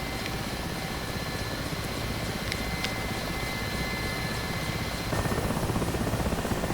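Mi-8 helicopter engine in the DCS World flight simulator, a steady, dense turbine-and-rotor drone that stays constant and swells a little louder near the end, with no voices.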